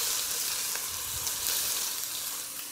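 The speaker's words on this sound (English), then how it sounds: "You're gonna wanna cook up your onions, garlic, and meat on medium heat until it looks something like this." Onions, garlic and meat fry in a pan over medium heat, giving a close, steady sizzle with faint stirring scrapes and no voices.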